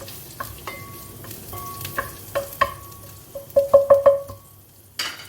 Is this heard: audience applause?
no